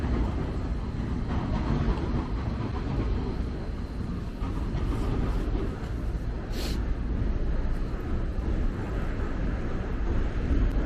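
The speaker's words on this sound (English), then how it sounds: "The train." A train passes through the streets of Poznan, Poland, near the Old Town, producing a steady broadband rumble that holds at an even level for about eleven seconds.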